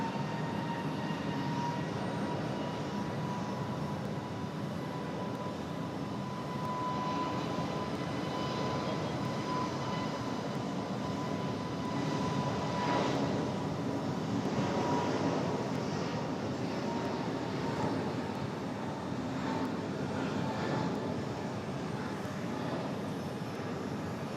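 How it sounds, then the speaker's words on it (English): Frontier airliner taking off at Raleigh-Durham International Airport, a steady broad jet roar that holds across the whole stretch and swells slightly midway, heard from a distance with no talking. "Frontier cleared for departure."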